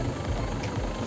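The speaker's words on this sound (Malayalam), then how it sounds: "അവിടെ നിന്ന് ഒരു ജീപ്പ് വരുന്നുണ്ട്." A jeep engine idles and rumbles on a steep mountain trekking road, a short, moderately loud, throbbing low drone with slight pulsing.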